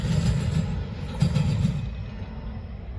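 Norfolk Southern freight train NS 917 heading northbound rolls past as a steady low rumble with a brief swell of wheel noise around the middle, easing slightly toward the end; no talking.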